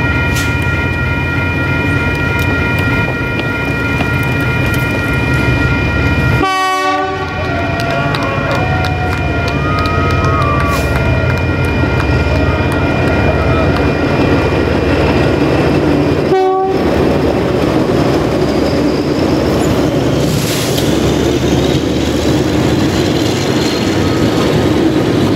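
DI1102 and DJ class diesel locomotives haul a train from Dunedin toward Waitati, a steady heavy diesel drone with wheels rolling on rails and two sharp horn blasts partway through.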